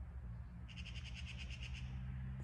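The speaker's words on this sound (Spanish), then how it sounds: "Sonido de urraca, ¿verdad?" A magpie gives a short rapid run of harsh chattering notes, heard at a distance over a steady low background hum, with no voices.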